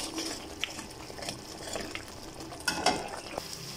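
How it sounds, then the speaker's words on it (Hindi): A spoon stirs chicken Afghani karahi gravy with cream and yogurt in a pan, giving soft, irregular scrapes and faint sizzling close by, with a few sharper clinks near the end. "इसलिए हमने चम्मच चलाते रहना है"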